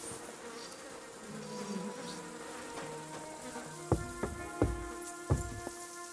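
Bees buzz steadily in the video game Kingdom Come: Deliverance II, a continuous insect drone with several sharper tonal swells and clicks in the second half, with no talking.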